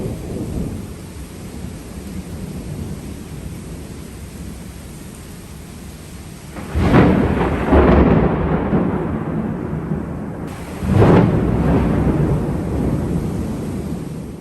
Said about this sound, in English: we then headed back to the hotel because there was a storm incoming. It was a big storm